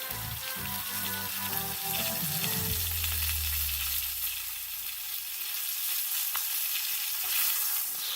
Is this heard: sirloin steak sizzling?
yes